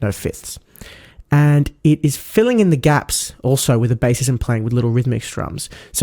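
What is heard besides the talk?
None of the usual background noises is heard.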